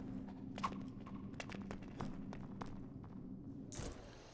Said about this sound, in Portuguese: Pegar aqui um cavalo para o Thor.